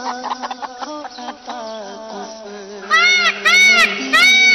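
A chicken clucks and squawks repeatedly, close by, with a burst of loud, shrill cackling calls near the end.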